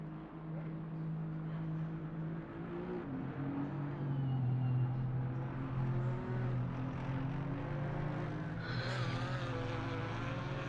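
GT4 race cars in the Assetto Corsa Competizione racing game run as a steady engine drone, a couple of cars droning together with pitch shifts as they shift gears, and a higher whine joining near the end.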